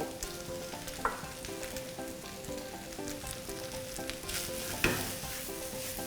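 Drunken noodles with instant ramen and bacon stir-fried in a pan, with a steady close sizzle under a soft background tone and two sharper bursts of spatula scraping or tossing.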